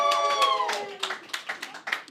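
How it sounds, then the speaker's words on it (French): A small audience at a party show claps as a guest is called up. A voice talks over the start, then a few scattered, uneven handclaps follow, fairly close and thin. "On applaudit Canuel, Loriot!"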